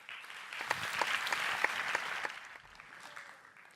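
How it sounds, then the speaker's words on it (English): Audience applause at a TEDx Monte Carlo talk, a dense spread of clapping that swells then tapers slightly over about four seconds, moderately distant in a hall with no voices. "Please give a big round of applause to Bertrand Petit."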